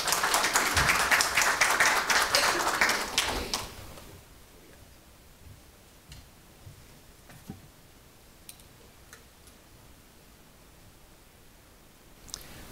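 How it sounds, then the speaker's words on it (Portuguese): Applause from a seminar audience fills the first few seconds, dense clapping that thins out and fades, followed by a quiet room with a few scattered claps and clicks. "Hatke, presidente do LIDE Rio Grande do Sul, a quem peço uma salva de palmas"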